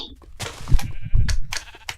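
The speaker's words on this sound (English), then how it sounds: "This is a sheep farm, and it'll eventually be a sheep and a cow farm." Several Minecraft sheep bleat in short, loud repeated calls on a sheep farm, spaced across a couple of seconds with no talk.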